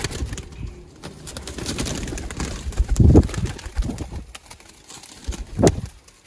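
Pigeons from a breeding pair coo in low, throaty rumbles while being caught and handled, with the birds close, some shuffling and wing movement, and a louder coo near the end.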